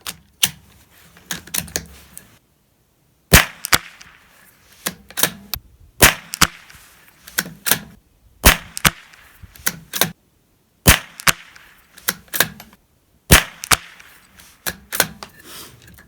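A Ruger Precision Rimfire .22LR rifle fires sharp, close cracks at a shooting range, with several spaced shots and quieter handling clicks of the bolt and magazine between them.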